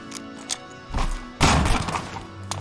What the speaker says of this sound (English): he throws what's called a flashbang